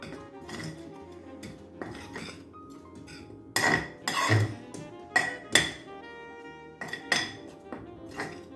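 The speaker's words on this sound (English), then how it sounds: "Gonna mix it so it's evenly distributed." Sweet and sour chicken being mixed in a bowl: a spoon knocks and clinks against the dish in irregular taps, with several louder clanks, close and without talk.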